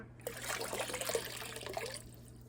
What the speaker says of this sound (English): Sponge filter into the dirty water to make it even more dirty.